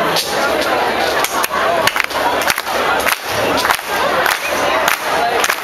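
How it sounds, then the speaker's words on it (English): A rockabilly concert crowd claps along in a steady rhythm, loud and close, with shouting and cheering from the audience mixed in. "You need to do some clapping to get us through this next song."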